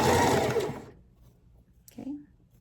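A sewing machine stitches tutu fabric in a quick, dense whirring burst that stops abruptly, followed by quiet handling and a brief soft thump.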